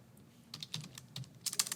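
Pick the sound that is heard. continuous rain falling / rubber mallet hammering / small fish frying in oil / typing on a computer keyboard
typing on a computer keyboard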